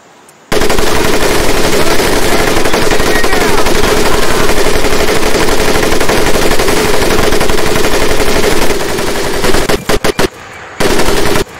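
Sustained machine gun fire in the video game Medal of Honor Pacific Assault, a loud continuous stream of rapid shots lasting about ten seconds before breaking into a few short bursts and a final volley.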